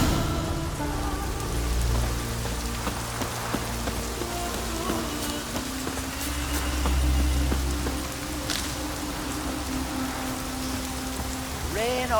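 Steady rain in The Witcher 3 video game patters on surfaces, a constant close hiss with scattered drips, faint and unbroken throughout.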